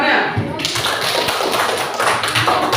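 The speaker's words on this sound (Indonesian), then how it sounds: "Oh, tepuk tangan semuanya." A group of children clapping their hands, a steady patter of many claps mixed with voices, close and fairly loud throughout.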